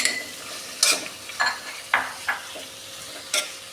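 Onions and shallots sautéed with ginger garlic paste in a pan for chicken kondattam, a soft sizzle under several sharp scraping stirs spaced about half a second apart, close and clear with no talk.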